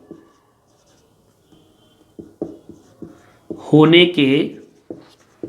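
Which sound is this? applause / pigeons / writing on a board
writing on a board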